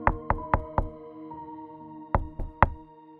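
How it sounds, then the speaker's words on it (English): Sharp, resonant knocks on a door: four evenly spaced raps, a pause, then three more, each ringing out briefly in an otherwise quiet room. "a knock was on the door"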